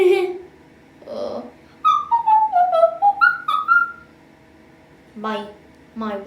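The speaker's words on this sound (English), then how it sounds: "My whistling is not that good. Rate my whistling out of 10." A person whistles a short wavering melody of about a dozen sliding notes, fairly close and clear, with brief speech before and after.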